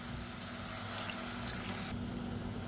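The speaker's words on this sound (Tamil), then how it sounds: "இந்த ஸ்டேஜில் தண்ணி சேர்த்துக்கலாம்." Water poured steadily into a pot of sambar with softened tomatoes, a continuous close splashing rush that shifts slightly in tone near the end.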